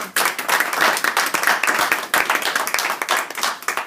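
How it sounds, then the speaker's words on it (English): An audience at a university capstone presentation breaks into a warm round of applause, dense and loud clapping from many hands, sustained and even across the whole stretch with no talk over it. "let's give a warm round of applause to Anna Dean and Whisper Wheeling"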